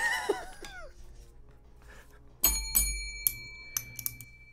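A bell tone plays from a phone speaker: a few bright rings ring out alone in a quiet room, followed by sharper single dings with decaying tails.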